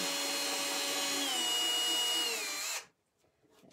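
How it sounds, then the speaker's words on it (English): A power drill whirs steadily at high speed into old oak, its pitch dipping slightly under load, then cuts off abruptly, leaving near silence. "you can just like easily drill in there"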